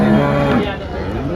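A cow moos loudly and close at a busy cattle market for HF and Jersey dairy cows in Dhule, one long drawn-out low call with the market's steady hubbub behind it.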